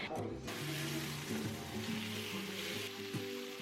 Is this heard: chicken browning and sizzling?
yes